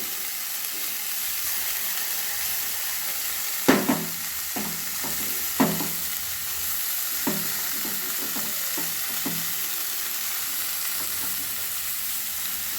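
Ground spice paste frying with partly cooked cauliflower and potatoes in a pan for a winter-vegetable rohu fish curry, a soft steady sizzle broken by several sharp stirring scrapes and clatters.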